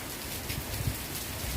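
Steady rain falls outdoors on a rainy day, a continuous soft patter and wash of drops that holds at an even level throughout, with no voices.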